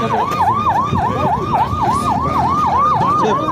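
An ambulance siren wails loudly and nearby in a steady repeating up-and-down cycle, continuous over street noise at the scene of a presidential motorcade accident in Kananga.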